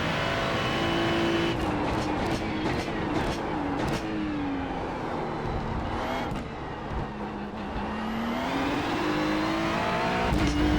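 A race car lapping Monza, its engine droning steadily and rising and falling in pitch through gear changes and braking, with a few sharp shifts, loud and continuous from onboard.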